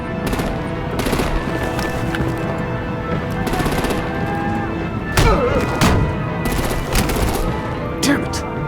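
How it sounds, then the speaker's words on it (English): Gunfire and artillery blasts from the Batman: The Telltale Series video game, with repeated bursts of shots and heavy booms over a busy, continuous battle din, loud and close. "Break out the artillery and disable their vehicles!"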